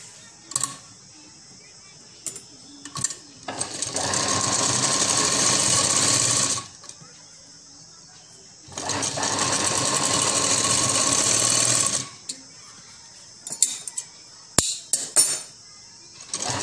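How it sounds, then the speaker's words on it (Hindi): Sewing machine stitching lace onto the underside of a designer sleeve, running in two long, loud, steady bursts separated by quiet handling clicks and taps. "हम इसे उल्टी तरफ करके सिलाई लगा लेंगे नीचे की ओर।"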